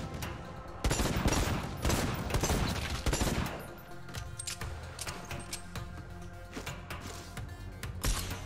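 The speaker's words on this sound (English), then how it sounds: "I have like paranoia that there's someone shooting grenade launchers at me" Gunfire and explosive bursts from the video game Necromunda: Hired Gun, rapid dense volleys of shots and blasts in the first half that ease into lighter scattered fire over a music-like background, with no talk.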